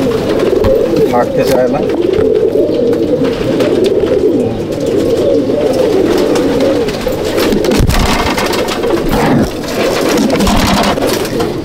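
Loft pigeons coo steadily in low, rolling murmurs that fill the space, close and continuous, with someone talking over them now and then.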